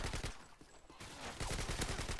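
Rapid gunfire in the video game Call of Duty Modern Warfare 2, bursts of sharp shots at moderate loudness with a short lull in between, no talk over it.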